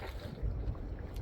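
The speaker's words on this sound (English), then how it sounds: "It's a bit windy. You can probably hear it." Wind on the beach at Atlantic Beach, North Carolina, buffeting an exposed microphone with constant low rumbling gusts, loud and close.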